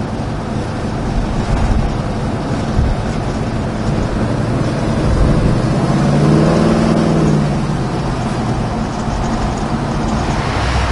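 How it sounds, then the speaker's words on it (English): A 1970 Chevrolet Chevelle SS 396 runs at a steady idle, its deep V8 rumble loud and close, with one swelling rise in engine note midway before settling back to a constant drone. "Nice straight running car."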